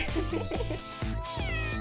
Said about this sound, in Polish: O, to mój kotek.